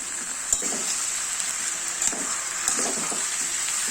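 Rice frying in a pan with tomato and split green chilies, giving a steady, bright hiss with a few soft clicks from stirring throughout.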